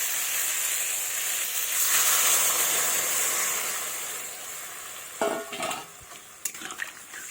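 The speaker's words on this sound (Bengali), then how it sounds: "এবার আমি দিয়ে দেবো জল" Water pours into a hot pan of drumstick and pumpkin for a vegetarian dish, raising a loud rushing hiss that swells and fades, followed by a few close clinks and scrapes of a utensil against the pan.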